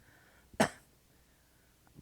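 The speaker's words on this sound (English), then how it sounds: "I'm not sick, I'm coughing because of my obstruction" A single sharp cough bursts out near the mic, brief and loud, with quiet room tone before and after.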